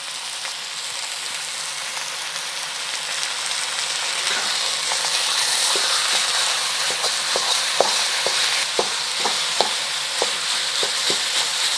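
Meat searing in a large wok for an Asian-style fusion pasta sauce, giving a steady hissing sizzle throughout, with sharper scraping and stirring clicks toward the end, alone and with no talking.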